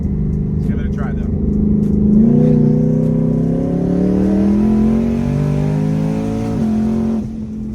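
A 1000hp supercharged drag car launches on the street, bogging at first before its engine climbs in a rising, strained roar, loud and close, with a brief pause near the end.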